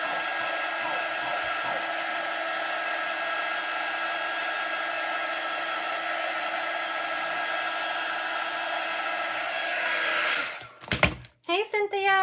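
A hair dryer blows steadily on a chalk paste craft piece, a loud, constant whirring hum for about ten seconds before it cuts off, followed by brief handling noises and a voice.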